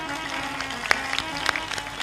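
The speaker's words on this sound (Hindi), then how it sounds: "ताली बजा दे उनके।" An audience at a satsang breaks into scattered, sharp handclaps over a steady hum, with a few louder claps standing out as brief bursts.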